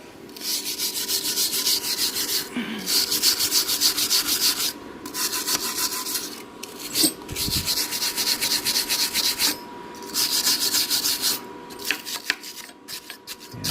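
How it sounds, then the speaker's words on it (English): A wire brush scrubs over fresh welds on a Krone mower bed in repeated rhythmic bursts of harsh, gritty scraping with brief pauses between strokes, close and fairly loud with no talking. "we'll give it a clean up with the wire brush"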